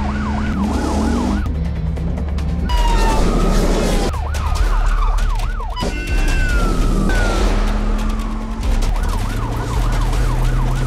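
A wailing ambulance siren cycles up and down loudly over heavy engine and traffic noise, switching between yelp and wail patterns throughout.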